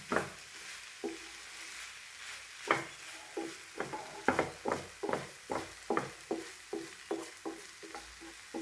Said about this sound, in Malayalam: മിക്സാക്കി എടുത്തിട്ട് നമുക്കിതിനെ നല്ലോണം ഫ്രൈ ചെയ്ത് ഫ്രൈ ചെയ്ത് എടുക്കണം